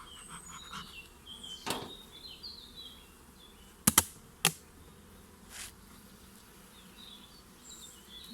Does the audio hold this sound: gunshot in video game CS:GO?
no